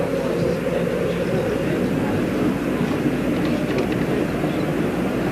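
Space Shuttle Challenger climbs after clearing the tower, its launch roar a dense, continuous low rumble heard from a distance, steady and unbroken with a faint murmur of voices underneath.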